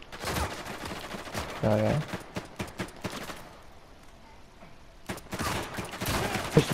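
Pistol fire in Uncharted 4 cooperative play, a string of sharp shots in irregular clusters around a quieter pause, with a brief spoken reply over the action.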